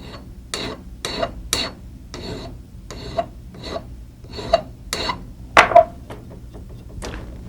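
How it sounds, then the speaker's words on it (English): A wide pillar file with a number 2 cut rasps across metal in about a dozen separate strokes, each a short, close, gritty scrape with brief pauses between them; no talking. "It's a number 2 cut, a wide pillar file."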